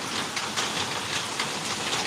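Steady rain pouring down, heard from a porch, a dense continuous hiss of drops close by with no pauses.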